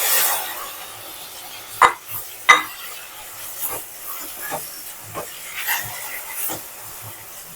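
Four medium tomatoes, peeled and finely chopped, tipped into hot masala for chicken karahi set off a loud, steady hiss of steam and sizzle, with two sharp clacks of a utensil against the pan and softer scraping stirs after.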